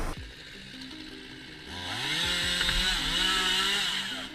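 A chainsaw cuts into a tree, starting at a lower idle and then revving up into a loud, sustained whining buzz as the chain bites into the wood, close by with no talk.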